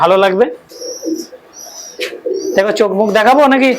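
Soft, low coos from giribaz pigeons at the start and between bursts, with people talking over much of the clip, close by.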